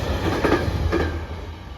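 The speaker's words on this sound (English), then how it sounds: "freight train approaching" A freight train rumbles past Denaby level crossing: a steady, loud, close roar of rolling wagons with a faint rhythmic clatter of wheels over rail joints.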